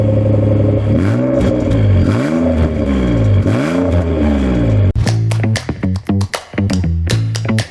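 A Nissan Leopard J.Ferrie's Z engine revs loud and close, rising and falling in repeated sweeps, then snaps through a quick series of sharp, short blips.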